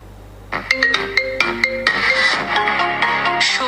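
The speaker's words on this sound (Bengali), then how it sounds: "রিংটোনটা কিন্তু অলরেডি তৈরি হয়ে গেল আপনাদেরকে শোনাচ্ছি" A custom music ringtone made on a phone plays back loud and clear, with a bright plucked melody of repeated tones that swells into a fuller, denser tune over a faint hum, with no talk.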